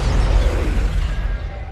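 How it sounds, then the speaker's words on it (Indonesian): A building blowing up in the animated film Big Hero 6, heard as a deep, loud rumbling blast that fills the low end and slowly fades over a couple of seconds. "Gedung tersebut meledak saat setelah Tadashi memasukinya"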